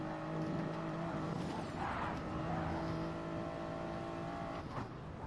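A race car in GT Sport braking late, its engine droning steadily with a brief tire skid and squeal partway through, heard at moderate level with no voices.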